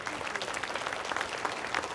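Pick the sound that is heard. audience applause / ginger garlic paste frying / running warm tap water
audience applause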